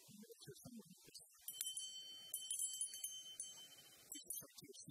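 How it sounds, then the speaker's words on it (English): A small bell rings at a live spoken-word storytelling show to call the audience back to their seats, a few bright, repeated dings that cut through a faint room murmur. "when you hear this bell"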